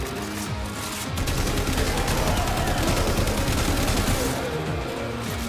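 Sustained automatic AK-47 rifle fire in the game Warframe, a loud dense stream of rapid shots running nearly the whole time with no talk over it.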